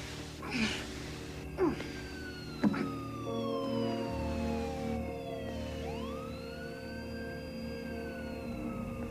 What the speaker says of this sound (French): J'ai entendu une sirène de police.